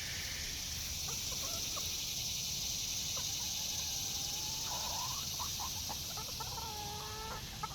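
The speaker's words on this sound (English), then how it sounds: "There are my chickens." Young backyard chickens, still too young to lay, give soft clucks and short calls scattered over a steady outdoor hiss and low background rumble, fairly faint and at a moderate distance.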